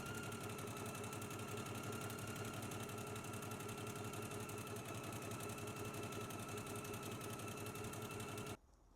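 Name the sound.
sewing machine zigzag stitching a dress seam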